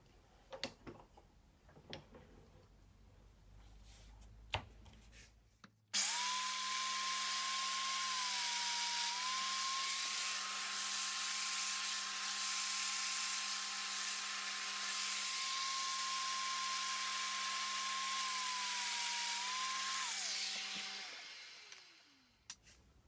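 A power tool cuts mortises in wood for a doorstep milk cover, with a long, steady, loud motor whine of about fourteen seconds that winds down at the end, after scattered knocks and clatter.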